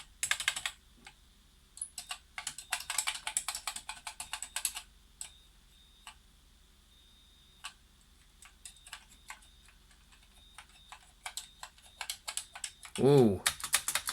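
Typing on a faulty BBC Micro computer keyboard: bursts of quick, clicky keystrokes in irregular runs with pauses between, close and fairly quiet, plus a short electronic tone near the end.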